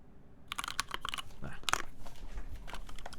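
Rapid clicky keystrokes from a Keycult No. 1/60 mechanical keyboard, an uneven burst of typing close by with sharp, bright clacks.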